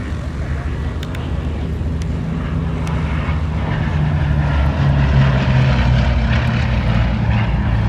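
Bristol Blenheim bomber flying past at the IWM Duxford D-Day anniversary airshow, a steady, loud piston-propeller drone with a droning low hum holding for the whole stretch, with a commentator's voice heard over it.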